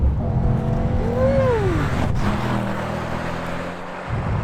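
A 2021 Mercedes-AMG E63 S engine accelerating hard, a loud rising engine note climbing in pitch, then a gear change and a lower steady drone that eases off as the car pulls away.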